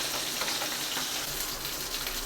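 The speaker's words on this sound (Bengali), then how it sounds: "মাছ ভাজা হয়ে গেছে," A steady, dense sizzle of fish frying in hot oil, unbroken and fairly close, with no voices.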